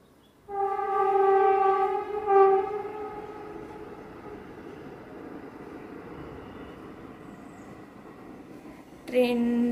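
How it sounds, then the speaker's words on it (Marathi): A train passes nearby on a rail line close to a home, giving a loud drawn-out horn-like drone with steady tones that fades into a lower rumble, then a sharp new burst at the very end. "ट्रेन चालली आहे, जवळ ट्रेन आहे त्यामुळे आवाज येतो"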